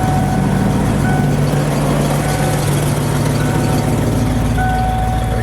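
After a fuel pump repair, an engine idles at about 1000 RPM with a loud, steady, close rumble and a constant low hum that holds even and unbroken.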